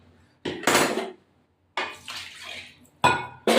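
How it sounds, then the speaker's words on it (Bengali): Water poured into a pan of mutton being cooked (kosha), three short splashy hissing bursts with brief silences between, close and loud with no talk. "সামান্য জল দেব।"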